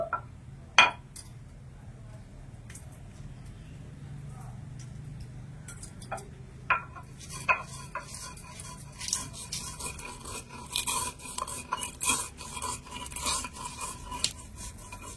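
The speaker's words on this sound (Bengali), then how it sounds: "এই মশলাটা একটু আধা ভাঙা করে গুঁড়ো করে নেব" Roasted spices are coarsely crushed into powder. Irregular clinks and grinding knocks come close and intermittently, grow busier in the second half, and sit among sparse background sounds.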